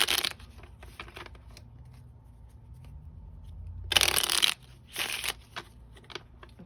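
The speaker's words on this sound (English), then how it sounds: "I'm only going to shuffle these 3 times" Cards riffle and shuffle in a few quick bursts, crisp and close, with soft handling rustles between them and no talking.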